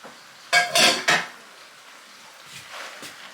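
Metal utensil scraping and clanking against a pan while a chicken and rice dish with vegetables is stirred, a few close bursts of clatter at the start, then quieter soft scrapes.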